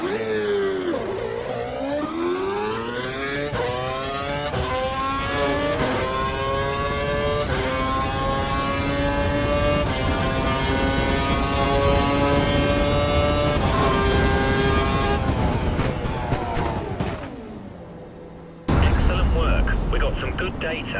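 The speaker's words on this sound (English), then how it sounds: "Head down the track, accelerating past 257 kph, then brake so that you come to a complete stop in the designated area." Formula One car in the racing game F1 2012 during a young driver test, engine lean-locked, revving hard through rising gear-shift sweeps, then dropping off as it brakes to a stop, followed by a loud harsh burst.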